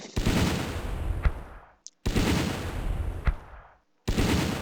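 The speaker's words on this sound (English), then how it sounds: "Let's try putting down some mortar fire on that MG34" Mortar fire aimed at an MG34 position in the WWII strategy game Battle Academy 2, Eastern Front, November 1941 near Moscow: two loud, booming explosions about two seconds apart, each with a sharp crack and a long rumbling decay.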